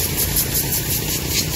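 Rosalia Indah bus engine idling during an engine check, a steady low rumbling drone with a faint vibrating hum, close and continuous without speech.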